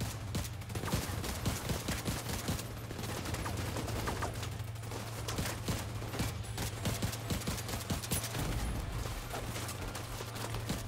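Rapid automatic gunfire in the video game Division 2, a loud, sustained stream of dense shots with barely a pause across the whole stretch, over a steady low hum.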